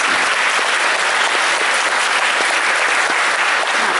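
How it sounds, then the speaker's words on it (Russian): A concert audience in a hall in Omsk gives sustained, dense applause, loud and even throughout, with many hands clapping together and no break. "вы друг другу аплодисменты подарите"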